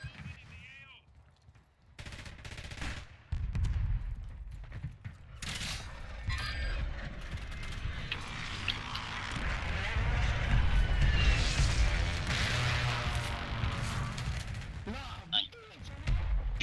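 Gunfire in Call of Duty: Warzone, with bursts of rapid shots and booms under excited voices talking, building toward a loud, dense stretch of firing in the latter half.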